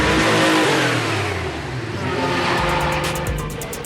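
A 1965 split-window VW Samba bus fitted with a 3.2-litre Porsche engine drives hard, its engine note rising and falling loudly and steadily under strong acceleration with road and wind noise, no talking.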